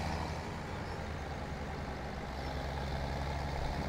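A tractor engine in Farming Simulator 17 drones steadily and loudly at close range, a continuous low mechanical rumble that never lets up.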